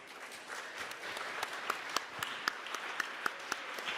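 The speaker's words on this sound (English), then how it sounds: "Another round of applause, please." An audience at a conference on girls' and women's human rights gives moderate applause, a soft continuous patter of many hands punctuated by a few sharper claps, heard at a fair distance with no talk.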